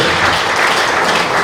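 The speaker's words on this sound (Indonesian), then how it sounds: "Berikan sorak-sorai buat Tuhan." A church revival crowd at a police headquarters gathering in East Nusa Tenggara bursts into dense, loud, sustained applause and cheering, filling the space evenly from start to finish.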